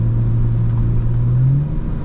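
A car engine in sport mode pulls hard with a loud, steady interior drone whose pitch rises near the end, heard alone for about two seconds.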